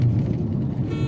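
A car cruises along a highway on a long road trip toward Rajasthan, a brief low engine and road rumble from inside the vehicle.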